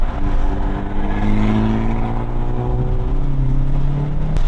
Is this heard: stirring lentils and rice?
no